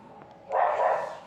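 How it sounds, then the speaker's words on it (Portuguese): A small dog gives a single short yip-like bark, fairly near and moderately loud, in a quiet indoor room during a live stream. "Cachorrinho participando da live."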